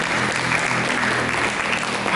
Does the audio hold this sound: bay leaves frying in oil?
no